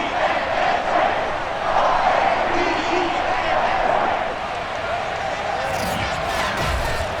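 Baltimore stadium crowd in a pro football video game cheers in a sustained loud roar as the teams take the field, with a commentator's voice running over it.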